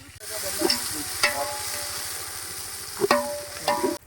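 Onions, green chillies and whole spices dropped into hot oil in a pan, a continuous close sizzle with a few sharp clinks and stirring scrapes, loud and alone.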